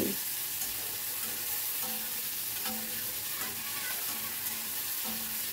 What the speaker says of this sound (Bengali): দেখুন এপিট ওপিট করে একটু ভেজে ভাজা মতো করে নিচ্ছি।